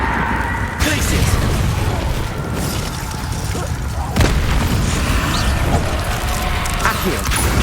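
An ice spell, Glacius, is cast in the video game Hogwarts Legacy, giving loud, dense blasts with two sharp bursts, one early and one midway, over a constant roar of game noise.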